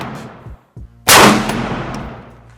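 A single sharp gunshot from a PSA 10.5-inch AR pistol with an SBA3 brace, loud and close, with a ringing decay at an outdoor range, following a few faint clicks and handling noises.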